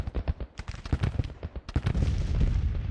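Artillery fire in a Civil War video game booms in a rapid, irregular barrage of heavy blasts. The shots overlap and build into a dense, continuous rumble toward the end, with no voices over it.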